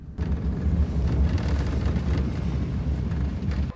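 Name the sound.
rocket salvo launch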